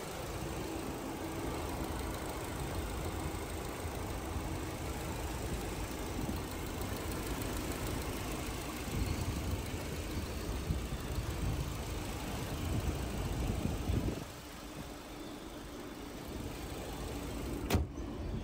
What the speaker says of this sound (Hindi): तो ये था 2000 सीसी पेट्रोल इंजन